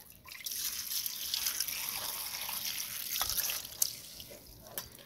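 Tap water runs steadily over pickled mustard greens being rinsed by hand in a sink, a continuous splashing trickle with a few louder drips near the end and no talk.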